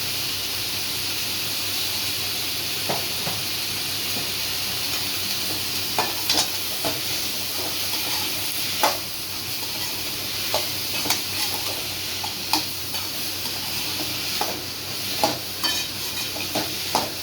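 Snake gourd and other vegetables sauté in a pan with asafoetida and turmeric, a steady hissing sizzle running throughout, broken by occasional scraping clicks of a spoon stirring.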